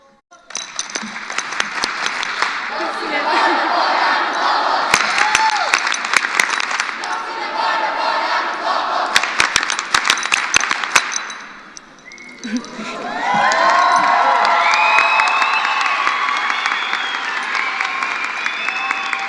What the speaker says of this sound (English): I'd like to give one last loud and proud Lobo chant.